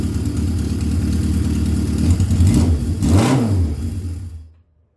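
A Suzuki GS550 motorcycle engine runs steadily close by, with two brief rev swells near the middle before it cuts off and falls silent.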